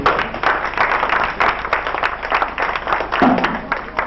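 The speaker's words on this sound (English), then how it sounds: "More round of applause to our guest speaker." An audience applauds a guest speaker at a Nigeria Peace Committee Lagos State Division gathering. The crowd claps in thick, uneven bursts that carry fairly loud and close throughout.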